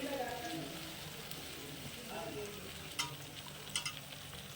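A ground paste of ginger, green chili, onion and garlic frying in a pan, giving a steady crackling sizzle with stirring scrapes and a few sharp clinks near the end.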